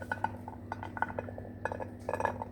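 A serving plate is set out and handled in a kitchen, giving a string of light clinks and taps of dishware in irregular bursts, close and fairly faint over a steady background hum.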